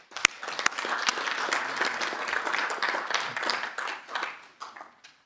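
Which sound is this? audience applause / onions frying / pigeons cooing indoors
audience applause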